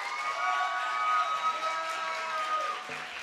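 A crowd at a 2017 Seattle City Council candidates forum cheers and applauds for Position 8 candidate Teresa Mosqueda, a steady blend of clapping and whoops holding at a fairly even level throughout.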